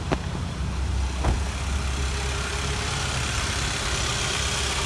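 A 2013 Kia Optima EX engine idles steadily with a low, continuous rumble after a new alternator is fitted, a couple of brief clicks near the start, no voices.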